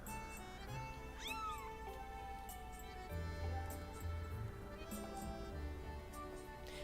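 Cat meows from Zelda: Skyward Sword HD, a cute in-game cat thrown by the player: a few short, moderately loud meows over steady game music and ambience.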